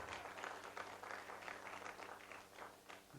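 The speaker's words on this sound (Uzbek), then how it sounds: "Bemalol qarsak chalsa bo'ladi" An audience at a stand-up comedy show claps in a dense, steady burst of applause that runs through to the end, heard faintly as if from a distance.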